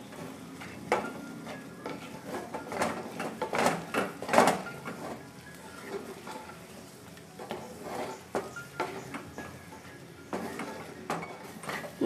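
Kerala-style cabbage thoran is stirred in a pan over a medium flame, with repeated scraping and clinking strokes of the spoon over a soft, continuous sizzle, fairly quiet and close.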